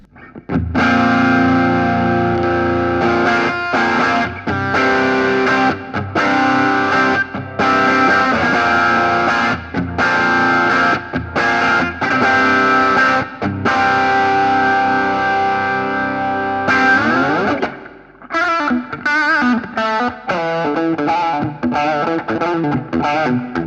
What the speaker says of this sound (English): I'm going to start with the tube screamer.